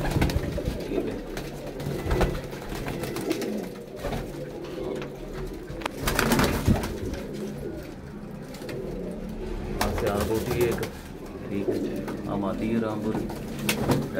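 Rampuri breeder pigeons coo steadily in a loft, soft repeated calls under a noisy backdrop with someone talking over them throughout.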